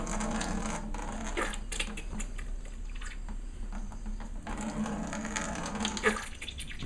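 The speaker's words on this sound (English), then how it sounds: "I'm just pumping out the fluid that's in there." Old fluid is pumped out of a Koni Yellow front strut housing on a 2002 Subaru WRX, giving a quiet, close, continuous wet sloshing with soft drips and gurgles.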